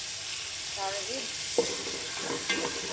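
Garlic sautéing in a pan for chicken curry, with a steady close sizzle and a few soft stirring scrapes and taps over it.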